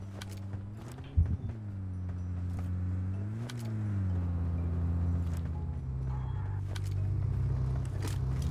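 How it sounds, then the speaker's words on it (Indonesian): Car engine in a PUBG match, a steady low drone that rises and falls slightly as the vehicle drives, with a brief thump early on and faint game clatter over the hum. "Suara mobil."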